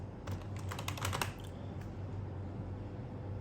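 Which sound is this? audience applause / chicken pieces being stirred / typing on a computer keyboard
typing on a computer keyboard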